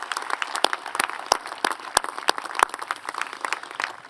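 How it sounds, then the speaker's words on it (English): Crowd applause at a high school graduation ceremony honoring teachers and administrators, a sparse scatter of distinct individual claps, close and crisp, without voices. "Please give a round of applause for these exceptional teachers and administrators"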